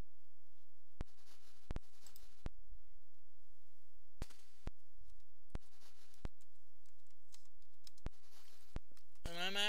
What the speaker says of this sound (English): I'm actually typing a few things